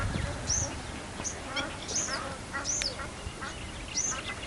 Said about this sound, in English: but these are ducks.